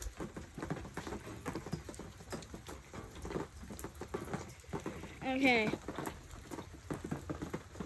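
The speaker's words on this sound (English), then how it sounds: "So a raindrop just sparked my phone." Rain patters steadily on a surface in Missouri, with scattered drops tapping nearby, a brief voice speaking once over the downpour.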